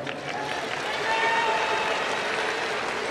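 Loud home-stadium crowd roars and cheers steadily during a hero interview after a Japanese pro baseball game against Chiba Lotte, a dense wash of voices and clapping filling the whole stretch.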